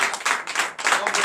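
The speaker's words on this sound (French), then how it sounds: "je vous demande d'applaudir très fort" Church audience at an all-night deliverance and prophecy service claps loudly, dense bursts of applause rising and dipping in quick waves over a little over a second.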